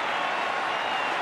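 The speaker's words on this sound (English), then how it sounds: "rise to their feet and cheer one of the greatest batsmen of all time" A crowd of 18,000 at a cricket stadium in Australia cheers and applauds during a Pakistan versus Australia Test match in 1983/84, a dense, broad roar of clapping and cheering that holds steady for the whole moment.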